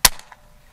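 A single sharp shot from a Hatsan Jet 2 .22 air pistol, a loud close crack with a brief decaying tail and no voices.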